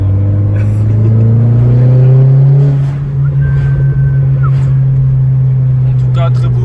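A car's engine revs loudly and steadily up close, a strong sustained drone that rises then holds, with people talking nearby over the top.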